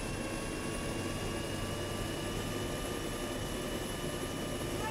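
Helicopter rotor and engine drone from the Arma military video game, a steady broadband whir with faint tonal whine, continuous and even throughout at moderate volume.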